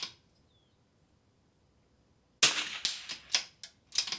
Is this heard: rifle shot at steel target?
yes